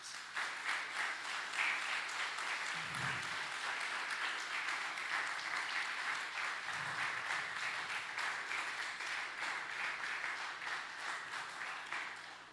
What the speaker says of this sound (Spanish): Dale un fuerte aplauso al Rey de Reyes